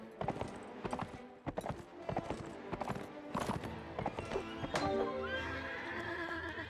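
Horse hooves clip-clop in Mount & Blade: Warband, a rapid uneven stream of close, crisp hoofbeats mixed with a neigh and whinny, loud and busy before settling into a steadier rumble.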